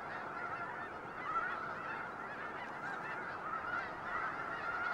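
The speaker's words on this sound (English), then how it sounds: "Snow geese are some of the first to move south." Snow geese honking on migration, a dense continuous chorus of many overlapping calls at steady, moderate loudness, like a large flock heard together.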